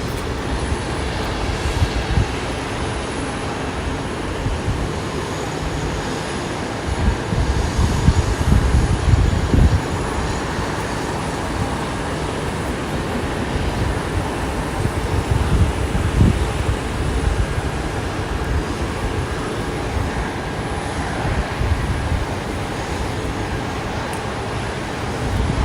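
Aircraft depart from Boise airport, heard as a long, steady, broadband jet roar that swells and fades while wind rumbles underneath and no one speaks.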